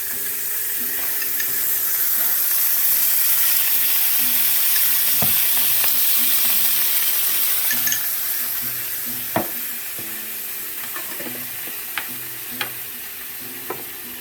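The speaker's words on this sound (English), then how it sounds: "Now you take your kimchi. Oh, it smells so good. You're going to cook that right in there." Kimchi fries in a hot pan with a loud, dense, hissing sizzle that fills the clip, then eases as a few distinct taps of a utensil ring out near the end.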